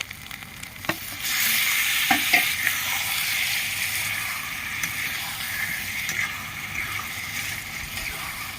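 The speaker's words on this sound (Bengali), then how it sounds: "মাংসটা আমি ঢেলে দিচ্ছি" Chicken poured into a hot pan, a sudden loud hiss of sizzling that swells and continues steadily, with a few utensil taps at the start.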